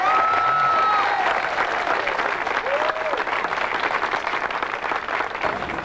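A crowd applauds and cheers loudly to celebrate a college solar car team's victory in Sunrayce 97, with steady clapping, whistles and shouts running throughout.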